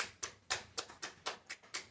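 Hand claps come faint and steady, about four to a second, in an even rhythm with nothing else heard.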